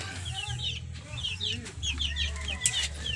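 A laying hen clucks repeatedly in short rising bursts, fairly close, over a steady low background hum, in a backyard flock.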